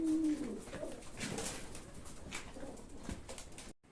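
Soft, low pigeon cooing close by against quiet background noise, with a few scattered bird calls.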